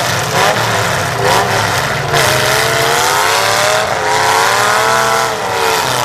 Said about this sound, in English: The Boltman is trying to get it fired up, tied up bumper